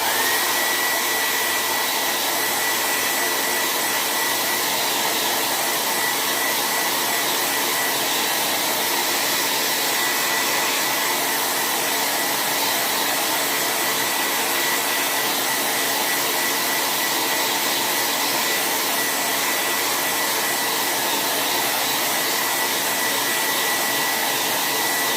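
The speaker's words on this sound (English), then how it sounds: "My blow dryer. It's going to get loud here for a second." A loud handheld blow dryer runs steadily close by, drying a dripped-on chalk-paint craft piece for a fireplace mantel, an unbroken whooshing whine with no talk.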